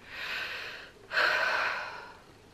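A trumpet teacher demonstrates shallow chest breathing: two close, airy breaths, the first softer and the second a sharper, louder intake that fades out, with no speech.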